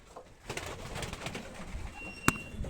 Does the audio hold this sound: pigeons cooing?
yes